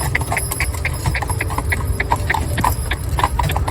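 Cob horses walk along a town road, their shod hooves striking the tarmac in a steady, close clip-clop rhythm with light traffic rumble underneath.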